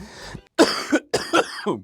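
A man clears his throat with three or four short, loud coughing bursts separated by brief pauses, close to the microphone.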